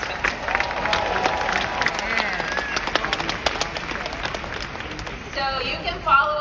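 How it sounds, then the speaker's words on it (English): Audience applauding athletes at an event, steady mid-level clapping with scattered sharper claps throughout, and a voice begins speaking near the end. "Let's give a big round of applause for them."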